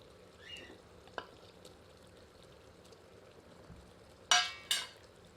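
Fried potato pieces drop into a clay pot of Odia-style chicken jholo. Two quick wet thuds and splashes come near the end after a quiet stretch with faint clinks and small knocks.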